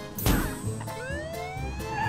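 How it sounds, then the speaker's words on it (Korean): A police car siren wails with rising tones, sounding fairly close amid other background noise. "경찰차를 부르자!"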